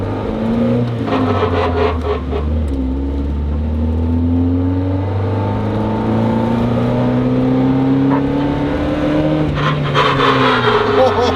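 A rear-wheel-drive JDM car engine drones and rises in pitch through the gears, loud and close, with occasional scraping noises breaking through.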